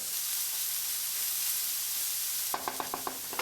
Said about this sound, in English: We're just going to add this into the onions and continue sauteing this with the onions and garlic.